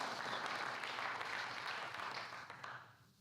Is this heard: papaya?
no